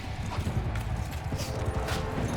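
Horse hooves clop steadily in Mount & Blade II: Bannerlord, a rapid, close galloping rhythm over battle noise.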